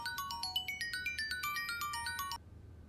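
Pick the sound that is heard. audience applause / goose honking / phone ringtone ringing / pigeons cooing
phone ringtone ringing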